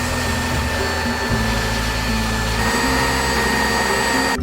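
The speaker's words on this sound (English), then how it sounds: "I'm gonna bring the belt sander back over and try to put a very large bevel on the brackets that hold it." A belt sander grinds a large bevel into metal brackets for a hardware-store kunai chain build, giving a steady, loud mechanical whine and rush that holds unbroken throughout with no talking.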